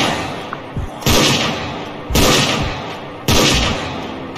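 An HNK SL86 sniper rifle fires in Unturned, three loud booming shots about a second apart, each with a sharp attack and a decaying tail, close and powerful.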